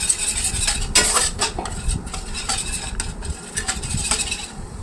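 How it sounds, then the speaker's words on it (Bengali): Spoon scraping and clinking against a bowl while poppy seed paste is mixed with salt and water, a steady run of close, light metallic stirring strokes with no talk. "জল দিয়ে পোস্তটা ভালোভাবে মিশিয়ে নিতে হবে"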